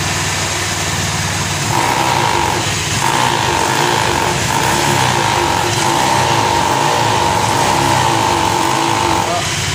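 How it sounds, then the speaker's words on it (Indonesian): A motorcycle engine that had lost compression idles steadily, with a sustained rise in pitch as it is revved for several seconds, while people talk nearby. "Sini motor sudah menyala Pak. Gas-gas Pak."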